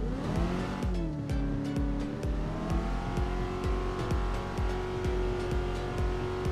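A car engine holds steady at partial throttle while the car drifts on a snowy track in a video game, with a close, sustained drone and faint rhythmic ticking from the tyres beneath.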